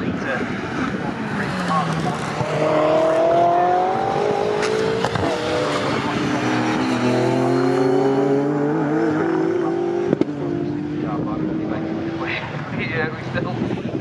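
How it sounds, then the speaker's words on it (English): A 3-litre Ford Capri race car exits the final corner at Snetterton during a CSCC Slicks Series race, its engine revving loudly and climbing through the gears as it passes, with a commentator talking over it. "The Capri just coming out of the final corner now to go past."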